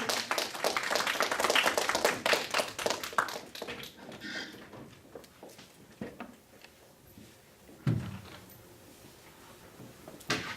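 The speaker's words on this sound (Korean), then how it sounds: "박수로 모십시오." Audience applause welcoming a pastor to give a lecture at a club gathering: dense clapping at first that thins out into scattered claps, followed by a few isolated knocks and thumps in a quiet room.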